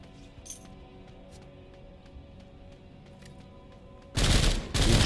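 Quiet in-game ambience with faint clicks, then a loud burst of machine gun fire in SULFUR near the end, briefly pausing and resuming as a dense, close rattle.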